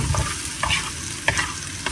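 Potatoes, onion and shrimp fry loudly in a pan, a close, constant sizzle broken by sharp clicks of a utensil stirring.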